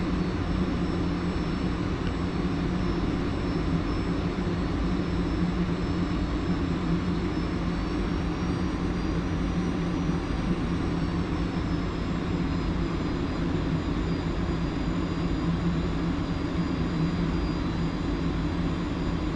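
An F-86F jet in the DCS flight simulator slows down with its flaps readied. The engine gives a loud, constant turbine roar and whine that holds throughout, with no speech.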